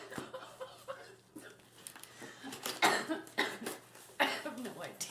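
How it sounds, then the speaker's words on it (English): Several hard, harsh coughs in bursts, close up, mixed with breathy sounds and a little talking. "But I just made myself cough really hard"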